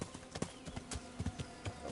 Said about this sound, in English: Since it's not crashing by traveling there with my horse, I will just gain a little bit more horsemanship.